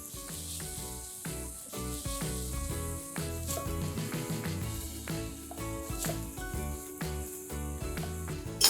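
A tempering of red chili and coriander sizzles in hot oil for a raw mango dal, a continuous hissing fry beneath prominent background music.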